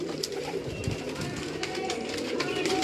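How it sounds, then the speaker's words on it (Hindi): Teddy pigeons cooing in soft, low repeated calls amid a busy background with people talking nearby. "ये टेडी कबूतर आप देख लीजिएगा"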